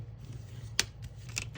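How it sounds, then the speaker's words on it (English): A bone folder presses sharp creases into a folded paper junk-mail envelope, giving two quick, crisp scraping strokes against a quiet background, with no talking. "So I'm going to use a bone folder."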